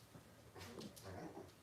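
A small dog's low growl, faint and close, with a few short whimpering rises over quiet room noise at a vintage Christmas live sale.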